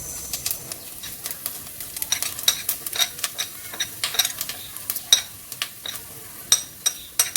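Cinnamon stick, star anise and fennel seeds fry in ghee over a medium-low flame, giving a light, crackly sizzle. Sharp little pops and spoon scrapes come unevenly through the clip, with no talking.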